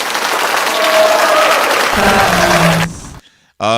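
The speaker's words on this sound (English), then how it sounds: "Round of applause to him." A crowd bursts into a loud round of applause and cheering that cuts off abruptly, followed by a brief silence before a voice starts speaking.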